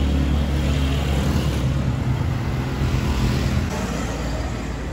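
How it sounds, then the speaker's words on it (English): Busy one-way city traffic in Las Terrenas, Dominican Republic, with rented motor scooters and quads passing, a steady dense rumble of engines close by without a break. "There's lots of shops here, lots of places to rent motor scooters, lots of busy traffic."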